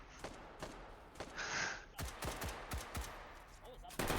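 M16 rifle shots in a video game, fired on semi-auto: a string of separate, fairly quiet sharp cracks at an uneven pace, spread across a few seconds with some fainter game noise between them.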